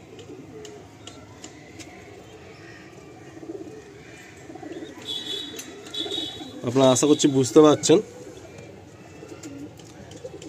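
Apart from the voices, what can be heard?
pigeons cooing in a loft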